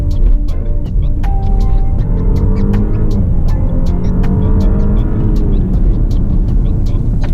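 A 2020 Audi A8 L engine drones loudly and steadily with rising tones as it pulls hard, punctuated by sharp ticking clicks throughout.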